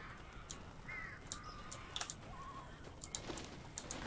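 Crows caw in the Alan Wake video game, a few short harsh calls over a steady noisy ambient bed, with sharp clicks scattered through the scene.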